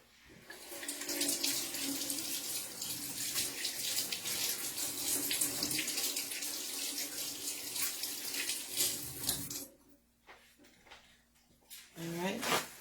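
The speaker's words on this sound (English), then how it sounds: "Let me just wash my hands." Water runs steadily from a kitchen tap into a sink during hand washing for about ten seconds, loud and close, then cuts off, leaving quieter handling noises before a brief restart near the end.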